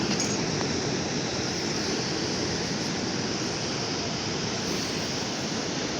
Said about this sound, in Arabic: كما كتلاحظوا البحر راه هو تبارك الله، راه الرغوه ديالو، المواج الرغوه ديالو بيضاء